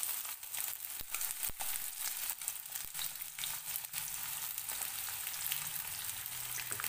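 Chopped onion and chili pieces sizzle and crackle in hot oil in a pan while being sautéed for dhaba-style whole masoor dal, a close, steady hiss with scattered sharp pops and occasional stirring scrapes.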